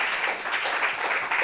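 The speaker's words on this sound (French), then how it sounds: "Est-ce qu'on peut applaudir Moya, s'il vous plaît?" Short burst of audience applause at a gathering of blind and visually impaired people, a thick patter of clapping held for about a second and a half with no speech.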